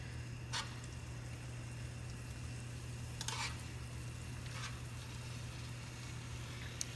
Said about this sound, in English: I'm just going to toss these in the oil that we have cooking on medium.